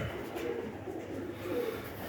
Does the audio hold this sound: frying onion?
no